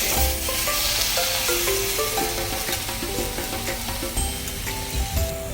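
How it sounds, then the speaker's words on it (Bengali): Chopped tomatoes and jujube (kul) dropped into hot tempering for a chutney, sizzling loudly and continuously while being stirred, with occasional scraping bumps. "এবার দিয়ে দিচ্ছি কেটে রাখা টমেটো আর বেছে রাখা কুল। একটু নাড়াচাড়া করে নেব।"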